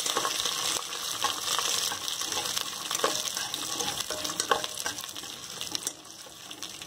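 Masala for bisi bele bath frying and being stirred in a pan, a steady close sizzle with scraping stirs throughout and no talk.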